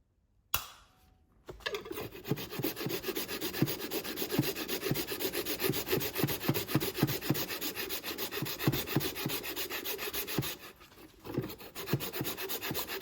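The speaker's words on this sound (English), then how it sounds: "there's other people using redneck saws to cut crap in the back of their Lambo" Hand saw cutting material in the back of a Lamborghini, a steady run of rapid rasping back-and-forth strokes, close and loud, with a short pause near the end before sawing resumes.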